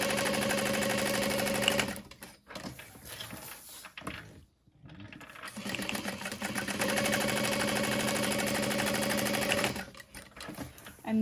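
Sewing machine joining clipped fabric pieces for a small Tribbiani Traveler bag with a half-inch seam allowance: a loud, close whirring run, a short pause with handling noise, then a longer continuous stretch of stitching.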